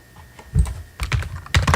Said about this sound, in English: just type it out, it'll tell me